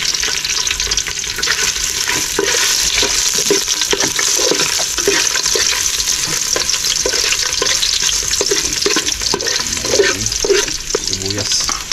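Ginger stir-fries in a hot pan, giving a steady, close sizzle with the scrape and stir of a utensil throughout and a brief soft voice at one point.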